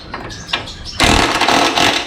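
A Makita DTW190 18V cordless brushless impact wrench hammers hard on a nut. Light intermittent rattling bursts give way after a second to a loud, dense, continuous hammering roar close by.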